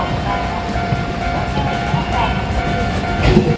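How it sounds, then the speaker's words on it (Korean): Trains pulling into a station beside a Tokyo level crossing, with Shibuya-bound and Kichijoji-bound trains arriving one after another, a loud continuous rumble with a steady tone and rising clatter near the end. "시부야 방면 열차가 진입함과 동시에 반대편 키치조지행 열차까지 연이어 들어옵니다"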